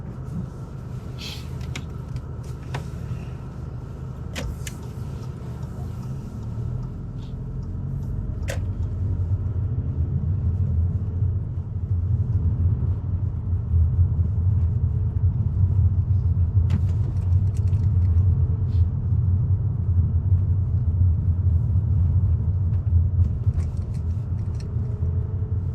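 A learner's car pulling away during a driving lesson, a low engine rumble growing steadily louder and fuller as it moves off, with a few faint clicks and small knocks near the start.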